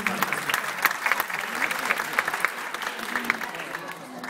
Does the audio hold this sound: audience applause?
yes